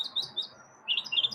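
Small birds chirp in short, bright, high tweets, a few quick calls at the start and another cluster near the end, fairly close and clear with no talk.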